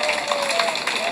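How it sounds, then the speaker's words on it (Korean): A rally crowd claps together, a dense continuous wash of many hands close by and loud, with a speaker's voice carrying over it throughout this brief moment. "우리 옆에 계신 분들한테 서로 박수 한번 쳐주세요."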